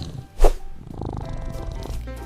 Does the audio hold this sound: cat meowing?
yes